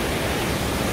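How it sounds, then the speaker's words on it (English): A small but raging waterfall at Klong Yai Kee on Koh Kood in the wet season gives a constant, broad rushing roar of churning water, loud and unbroken with no talk over it. "So it's a small waterfall, but the water's pretty raging."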